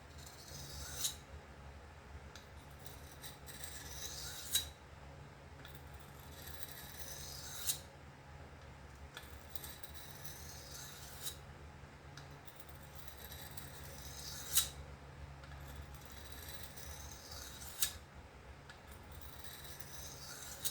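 A Spyderco Paramilitary 2 knife with an S110V steel blade drawn across a sharpening stone in steady, evenly spaced raspy strokes, each ending in a small click, close up and with no talking.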